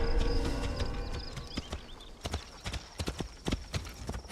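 Horse hooves clip-clopping in a video game set in feudal Japan, a horse carrying a rider over steep terrain: close, sharp, irregular hoofbeats on hard ground, picking up pace after a softer start with a low rumble underneath.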